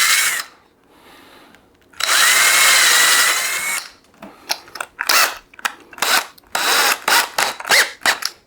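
A power drill fitted with a small bit cuts into material during a capacitor bank build: a short whir, a sustained loud drilling burst, then a series of quick, sharp on-off trigger pulses.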